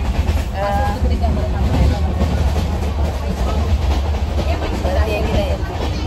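A crowded train from Mumbai to Konkan rumbles steadily along the rails with a constant low roar and faint clatter, loud and close, heard from inside, with indistinct voices mixed in.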